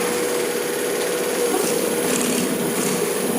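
A Raze Voltaire V2 dual-motor electric scooter running in gear 3 at speed gives a steady, high-pitched electric motor whine with a constant hum, close and continuous with no talking.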